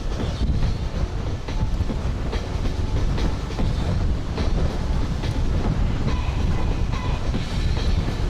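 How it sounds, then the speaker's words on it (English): A four-carriage double-decker train between Amsterdam and Utrecht rumbles past steadily with clattering wheels on the rails, heavy wind buffeting the microphone throughout. "Another double-decker 4-carriage train."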